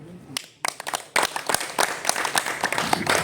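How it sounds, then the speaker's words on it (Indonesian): Audience at a cooperative committee closing event in Denpasar clapping hands: a few scattered claps build into a burst of lively, dense applause from a crowd, close and loud. "Coba tepuk tangan."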